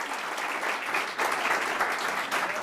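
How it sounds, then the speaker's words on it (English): Audience at a mayoral candidates forum held by a chamber of commerce claps steadily for the candidates, a dense, continuous round of applause with no talk over it. "give our candidates a nice round of applause"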